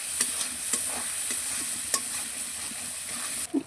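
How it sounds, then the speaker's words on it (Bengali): Chili, turmeric and cumin masala sizzling in a hot pan while being stirred, a steady high hiss with light scraping clicks of the spoon, close and alone. "ভালোভাবে মশলাটা কষানো হচ্ছে।"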